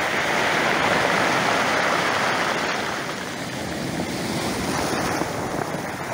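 Waves surge and break in a continuous loud rush of surf, mixed with wind buffeting the microphone, no voices.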